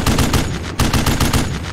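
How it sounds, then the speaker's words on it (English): Rapid automatic gunfire in the tank simulation game Steel Beasts, a loud, close, steady rattle of bursts with a brief break near the middle before firing resumes. "We're taking fire here."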